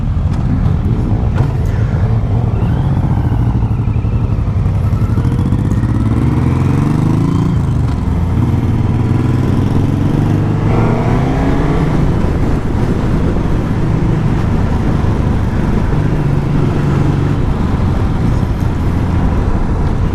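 A Suzuki GSX-S1000 motorcycle rides along the road, its engine a steady loud drone with rising and falling revs and constant wind rush throughout, no voices.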